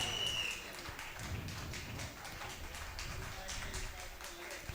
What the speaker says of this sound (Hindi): जोरदार तालियां बहुत हो ही जाए।